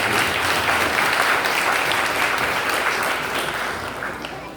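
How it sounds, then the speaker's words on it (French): A church congregation rises and applauds a pastor warmly, dense sustained clapping filling the room at full strength, then gradually tapering off toward the end, with no speaking over it. "mettez debout, applaudissez chaudement, pasteur Vignet."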